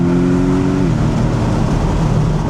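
Porsche 718 Boxster GTS exhaust heard from inside the cabin with the roof down, a loud, droning engine note that holds steady tones, then dips slightly as the pitch shifts, with road rumble underneath.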